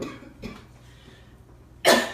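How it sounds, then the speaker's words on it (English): Two separate coughs, a softer one near the start and a louder, sharper one at the end, with quiet between them. "I have a cough in my throat, so I'm gonna grab my water."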